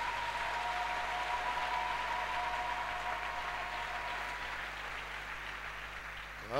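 A church congregation applauds, a dense, steady wash of clapping that holds at an even level for several seconds and fades slightly near the end.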